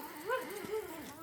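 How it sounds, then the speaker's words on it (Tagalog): A fierce dog gives a brief bark-like growl twice, rising and falling in pitch, close and fairly clear over quiet background noise on a building site where a house frame is going up. "Ayan, matapang na aso."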